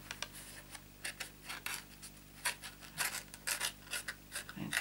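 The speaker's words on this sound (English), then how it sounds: "now what you need is to very gently fold on the curved creases" Paper pillow box folded by hand along curved creases, heard as faint, close, intermittent scratchy crinkles and soft crackling ticks in a quiet room.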